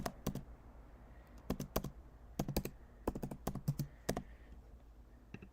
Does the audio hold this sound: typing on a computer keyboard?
yes